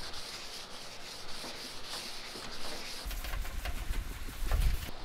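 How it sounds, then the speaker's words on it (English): A rag rubbing acetone onto a jon boat hull, a soft steady scrubbing hiss that grows louder and more rhythmic in the last seconds, close up with no talking. "I guess I'll kind of just glop it on there and rub it in."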